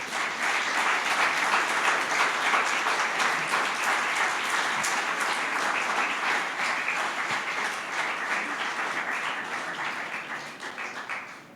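A church congregation claps in loud, steady, unbroken applause that slowly tapers off near the end.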